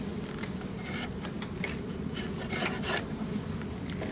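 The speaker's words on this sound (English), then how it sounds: "Scrape that wax out of there." Steady rasping scrape of a tool clearing wax out of a wooden beehive box, with a continuous gritty texture and a few brighter strokes, fairly quiet and close.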